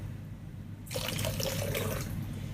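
Water poured into a pre-workout drink, starting about a second in as a close, steady trickling splash that continues without pause after a quiet room start.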